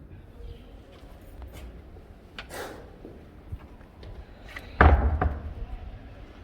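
A heavy door at a historic slave fort in Ghana swings shut with a single loud slam and brief rattle near the end, preceded by scattered footsteps and knocks in a reverberant room.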